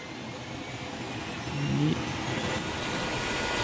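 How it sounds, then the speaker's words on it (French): Rocket engines starting up in a Roblox space game, a rising whirring engine roar that swells midway and then holds as a steady drone. "démarrage des moteurs"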